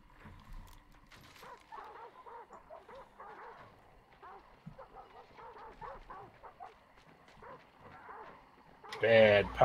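Hellhound dogs in Hunt: Showdown, barking and yelping in rapid repeated bursts, growling on and off across the stretch, with a louder burst of noise at the end.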